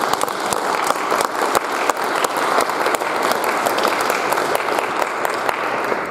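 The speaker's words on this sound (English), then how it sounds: "Let's take a moment and recognize and celebrate all our saints with applause." Church congregation at a Sunday worship service applauding to celebrate its saints, brisk many-handed clapping that stays loud and even throughout, crisp individual claps standing out close by.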